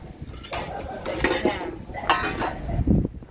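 Pots, pans and utensils clatter and clink loudly in a busy Filipino eatery kitchen while lomi is sautéed, with irregular metallic knocks throughout and a short voice near the end.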